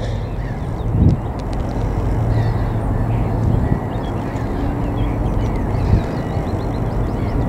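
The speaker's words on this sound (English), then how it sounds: "A couple of wee ducks there." Ducks quack now and then over a steady outdoor wash of wind and water in Belfast harbour, a few calls at moderate distance.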